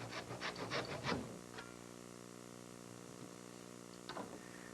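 Hand saw rasping back and forth through wood for a boat build, a quick run of close, fairly soft strokes at first, then a long quiet stretch and one short stroke near the end.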